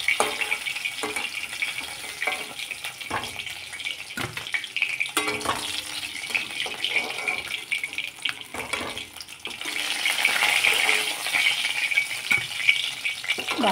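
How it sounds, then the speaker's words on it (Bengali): Fish frying in a pan, a steady sizzle with occasional stirring clatter and scraping knocks, close and moderately loud. "দুটো মাছ ভেজে নিলাম একটু কড়া করে।"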